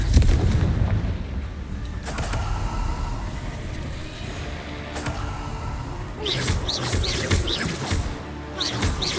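Spell explosions from the Confringo fire curse in the game Hogwarts Legacy, a dense series of loud booming blasts with sharp crackling bursts near the end, continuous and close throughout.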